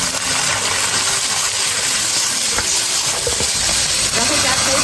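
Side vegetables hit a hot wok of pan-fried grass carp pieces in rapeseed oil and lard, producing a loud, continuous hissing sizzle close up throughout, with a few faint clinks.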